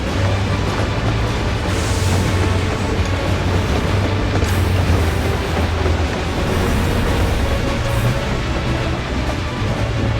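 A train rolls past in Final Fantasy XIV: Dawntrail, a steady, loud rumble of heavy rail cars with a low hum underneath, running continuously throughout with no talk.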